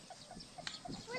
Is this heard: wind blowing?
no